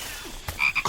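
A frog croaks in a Samsung Galaxy S24 Ultra advertisement: one brief, close croak that stands alone in under a second.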